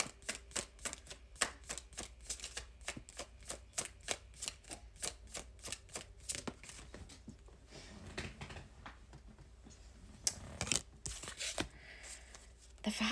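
A deck of tarot cards being shuffled before a single card is drawn, giving a rapid run of crisp riffling snaps for several seconds, then softer scattered card handling and slaps, close and fairly quiet with no talking.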